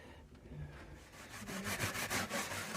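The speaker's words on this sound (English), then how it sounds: "it's just all ready now for a rub down in either a varnish or a paint" Wood rubbed down by hand, a rhythmic rasping scrub of repeated back-and-forth strokes that grows louder and steadier toward the end, close and with no talk.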